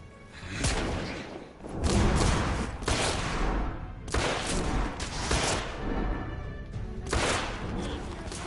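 Gunfire in The Order: 1886, a loud run of heavy shots and bursts in bunches with short lulls between them, close and booming across the whole stretch.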